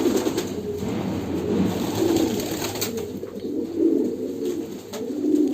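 Fancy pigeons of a home-bred line cooing on a pigeon farm, soft low rolling coos repeating close by in a steady murmur with no talk.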